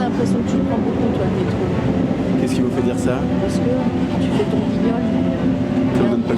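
A moving metro train rumbles and rattles continuously, loud and close, with clacking and squeals over the steady roar while people talk inside the carriage.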